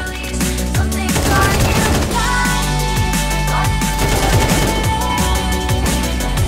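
Rapid gunfire from a Counter-Strike 2 match, dense bursts of shots layered over steady game music and effects, loud and continuous throughout.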